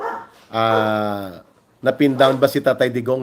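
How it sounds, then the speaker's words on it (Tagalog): A dog barks in the background during a Filipino political commentary, its repeated yapping barks overlapping and interrupting a man's speech in the foreground. "maingay ang aso sa paligid"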